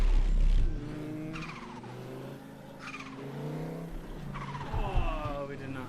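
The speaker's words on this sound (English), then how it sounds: "Rev limiter, bouncing off the rev limiter." Racing-game car engine in No Hesi heavy Japanese traffic, held against the rev limiter, a loud buzzing drone with stuttering cuts and harmonic whine, mixed with passing traffic, brief tire squeal, and a faint voice underneath.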